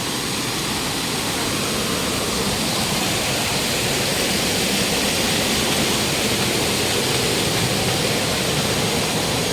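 Strong water current rushing at Balagbag Falls in Real, Quezon, a loud, dense, unbroken roar of tumbling water filling the whole clip.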